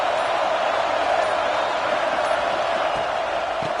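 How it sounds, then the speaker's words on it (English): A stadium crowd in a football video game roars in a steady, dense wash of cheering that holds evenly throughout, loud and continuous with no pauses. "It's early, but this crowd is fired up."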